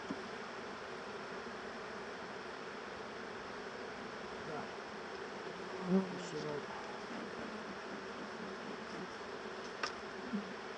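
Honey bees hum around beehive frames during a move to a new hive, a steady, fairly quiet buzzing swarm with a few louder passes of individual bees close by.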